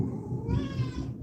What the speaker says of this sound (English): Come here, you whiny little kitty cats